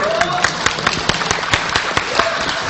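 An audience claps during a speech on Pancasila at an Indonesian gathering, a dense steady patter of hands with sharper individual claps standing out, loud and close over a continuous crowd murmur and a voice underneath.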